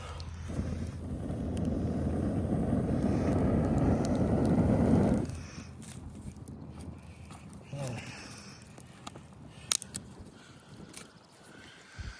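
Breath blown steadily onto smouldering tinder to get an outdoor campfire going, a close, loud rushing puff for about five seconds, then quieter wind and faint crackle with brief voice sounds.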